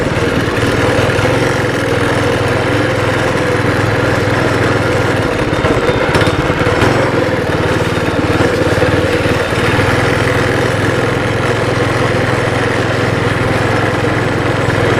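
A freshly rebuilt Baja Warrior minibike engine with a torque converter runs continuously outdoors, a loud, steady small-engine buzz that swells briefly midway as it is ridden about.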